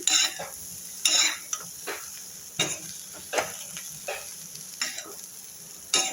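Cluster bean dal usili sizzles quietly in a pan as a spatula stirs it, giving sharp intermittent scrapes and clinks against the metal every second or so over a soft frying hiss.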